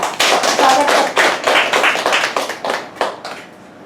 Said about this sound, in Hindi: आइए हम स्तुति आराधना में प्रभु की उपस्थिति में तालियां बजाते हैं।